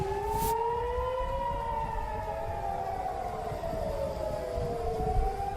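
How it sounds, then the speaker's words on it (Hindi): An air raid warning siren in Israel wails steadily, its rising and falling tones overlapping from multiple sirens at a distance, after a brief burst of noise at the start. "1 मिनट में 36 शहरों में बैक वक्त खतरे के सायरन बजाए गए।"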